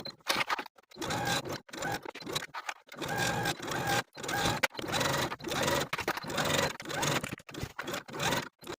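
A sewing machine stitches around a vest's notched collar in short bursts of rapid rattling, stopping and starting repeatedly with brief silent gaps between runs, close and fairly loud.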